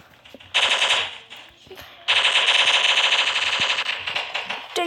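Machine gun firing in the video game Block Strike, two long rapid automatic bursts, loud and close, separated by a brief gap with faint game sounds.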